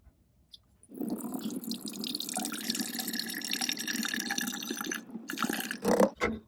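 Synthetic brake fluid from a large 32-ounce bottle is poured out for a 1969 VW bus brake job, a steady trickling, splashing stream running close by for about four seconds before a few gurgles and drips as it stops.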